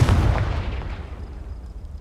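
A Confringo blasting spell explodes in the Hogwarts Legacy video game, a single loud, close boom that hits hard and then fades into a rumbling tail.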